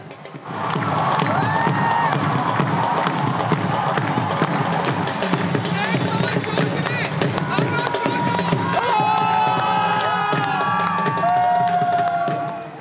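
Huge crowds cheering and shouting at the Wagah border flag-lowering ceremony between India and Pakistan, a dense, loud roar of voices with whistles and shrill calls rising through the crowd noise.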